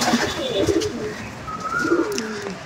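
Lal Jiriya pigeons cooing close by in soft, rolling low coos, several overlapping phrases repeating steadily over faint background noise.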